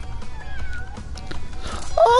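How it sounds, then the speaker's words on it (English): A cat meows in Crash Bandicoot N.Sane Trilogy, a short, loud, rising cry at the very end, preceded by quieter game sounds and a faint voice. "It just meowed."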